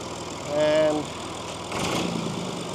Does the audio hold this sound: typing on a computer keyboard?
no